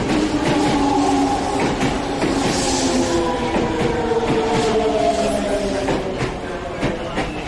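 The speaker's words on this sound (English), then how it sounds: "Chad, train is coming" A train pulls into a station with a heavy, continuous rumble, squealing wheel tones gliding up and down, and rhythmic clatter of the cars that eases slightly toward the end, with faint voices in the background.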